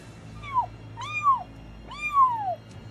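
A person's voice imitates a kitten, giving three short, rising-then-falling mews, each a little longer than the last, close and alone against a quiet background.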